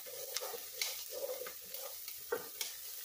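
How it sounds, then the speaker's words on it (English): Garlic sizzling and frying in a pot for chicken tortilla soup, a steady close crackle broken by repeated scraping stirs from a utensil, with no talk. "you cook the garlic about 30 seconds to a minute"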